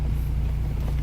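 The engine of a 1997 Acura Integra with an idle problem runs with a low, steady droning hum that holds fairly even through a brief moment, close and alone.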